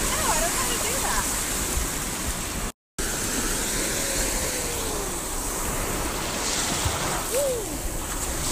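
Ocean surf rushes continuously onto a Destin, Florida beach at night at high tide, a loud steady wash with wind noise on the microphone and brief faint voices.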